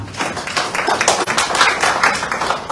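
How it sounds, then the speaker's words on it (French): An audience at a government press conference bursts into applause, a close, brisk patter of many individual claps with uneven surges, heard without any voices over it. "monsieur Kouadio Konan Berthe, que je demande d'applaudir."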